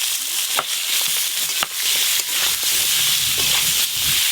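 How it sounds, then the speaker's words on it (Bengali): Potatoes and pumpkin pieces frying in the same oil just used for hilsa fish heads, giving a steady broadband sizzle with occasional sharp pops and crackles, close and continuous. "ওই একই তেলে আলু আর কুমড়োগুলো ভেজে নেব।"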